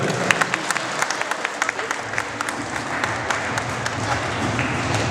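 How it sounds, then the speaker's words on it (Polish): A crowd at a tournament opening applauds steadily, many hands clapping together in a dense, continuous patter that stays even throughout. "Jeszcze raz brawa dla rodziców, kierowników i trenerów."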